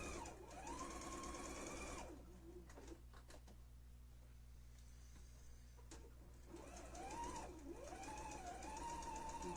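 A sewing machine stitching a scallop curve hums steadily in close, rapid runs, pausing briefly in the middle before starting up again, with no talk over it.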